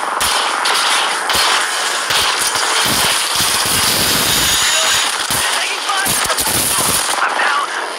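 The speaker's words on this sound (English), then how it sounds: "They're shooting at me." Rapid automatic gunfire from the video game Apex Legends rattles in loud, dense bursts, with brief gaps between volleys throughout.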